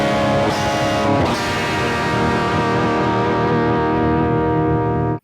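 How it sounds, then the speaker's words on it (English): Guitar amp pushed into heavy distortion with every control turned to the max, a loud, thick sustained chord ringing out after a sharp attack and holding steady for about five seconds before cutting off abruptly. "I can totally hear the distortion part"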